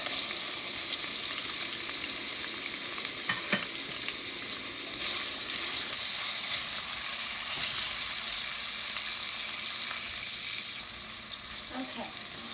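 Garlic, ginger and onions frying in a pan with butter, a steady bright sizzle that holds throughout, with occasional stirring clinks and a slight drop in level near the end.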